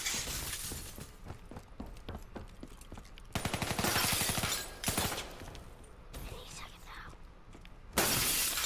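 Gunfire in Call of Duty Black Ops 3 crackles in a dense run of sharp, close shots with a loud, sustained burst midway and another at the end, under a noisy game mix with voices present.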